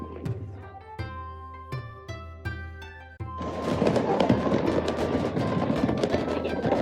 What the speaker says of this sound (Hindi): फेस्टिवल का समापन देवताओं को समर्पित एक शानदार आतिशबाजी शो के साथ होता है।